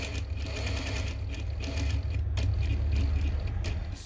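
A sewing machine runs steadily for about four seconds while back stitching a two-piece collar, with a continuous close motor hum and rapid needle clatter and no one speaking.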